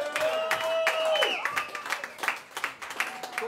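An audience at a pub gig at The Wheatsheaf in Banbury claps and cheers. Whoops and shouts come first, followed by scattered, uneven applause close by.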